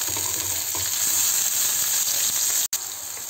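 Eggplant slices frying in hot oil on a tawa with mustard seeds, a loud, steady crackling sizzle that runs continuously with a brief dropout near the end.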